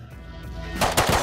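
Gunfire in the survival video game Rust: after a quiet moment, two loud, sharp bursts of shots crack out close by in quick succession.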